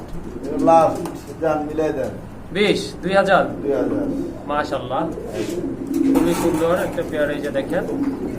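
Pigeons kept for sale coo softly in the background, repeated low calls sitting beneath near, continuous talking that dominates throughout.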